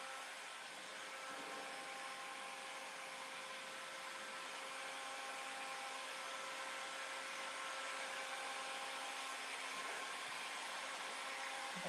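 A hair dryer blows steadily, drying textured paint on a serving trolley being repainted; a constant broadband whoosh runs near and unbroken throughout.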